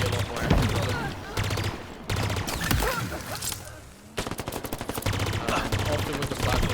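Plasma rifle fire in the PC shooter Halo Infinite: rapid, loud bursts of energy shots in repeated volleys, broken by brief pauses and a short lull near the middle.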